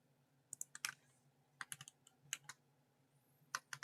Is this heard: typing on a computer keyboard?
yes